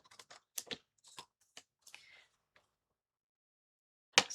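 Scissors snip a paper closure strip for a one-sheet tag holder craft, a quick series of short crisp cuts close by, then a pause and one final sharp snip.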